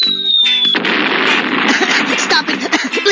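A hydrogen bomb explosion effect from the You Don't Know Jack trivia game: a brief falling whistle-like tone, then a loud, roaring blast that rumbles on with crackling bursts for a few seconds.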